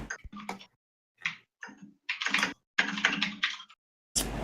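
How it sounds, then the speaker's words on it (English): Loud typing on a computer keyboard comes through as bursts of close, sharp key clatter separated by abrupt silent gaps, as if cut in and out by a noise gate, with no speech over it. "Who is typing so loud?"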